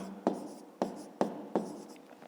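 Pen strokes on paper while writing out a geometry exercise by hand, four sharp scratchy strokes at a steady rhythm, close and fairly quiet with no voice over them.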